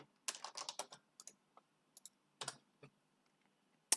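A command is typed on a computer keyboard in short bursts of crisp key clicks, close and clear in a quiet room, with brief pauses between the groups of keystrokes.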